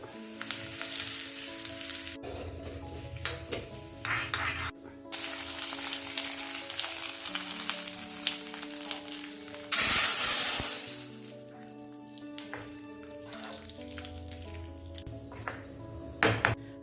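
Mustard seeds, cut dried red chilies and curry leaves fry in hot oil for a Kerala vegetable kurma tempering, a loud continuous sizzle and crackle with a sharp burst of spattering midway, then settling to steady frying.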